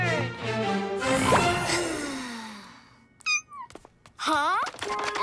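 A cartoon kitty gives two short, rising meows after a noisy stretch of other cartoon sound, the second meow louder and longer.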